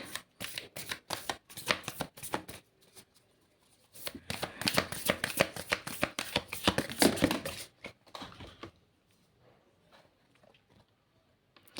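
Tarot cards are shuffled by hand for a reading, two bursts of rapid riffling and snapping close by, then a few soft taps as a card is drawn.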